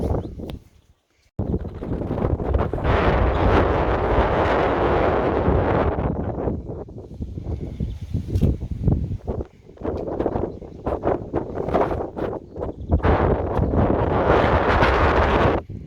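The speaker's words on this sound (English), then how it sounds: "It's really windy up here today." Strong wind buffets the microphone in loud, roaring gusts that rise and fall, briefly dropping out near the start, in the Algarve, Portugal.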